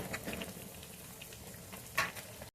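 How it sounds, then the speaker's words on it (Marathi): Vada fritters deep-frying for Mumbai-style vada pav crackle and patter softly in hot oil, with a sharper spattering burst near the end. "आपण संपूर्ण वडे तळून घेऊया"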